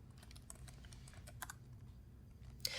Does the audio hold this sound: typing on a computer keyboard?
yes